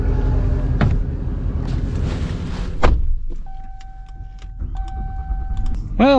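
A Ram AEV Prospector XL Mega Cab truck sets off to drive: a loud engine rumble, a thump, then a quieter idle with a sustained chime tone and dashboard beeps near the end.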